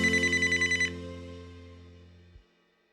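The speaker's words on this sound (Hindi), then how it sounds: "भैया का फोन।" A telephone rings with one short burst of rapid electronic trills, then a sustained tone fades and cuts off abruptly; close and clear, no talking.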